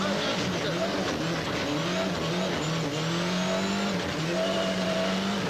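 A Ford Escort RS Cosworth rally car charges through a stage, its engine revving hard and rising and falling in pitch with gear changes, loud and close throughout.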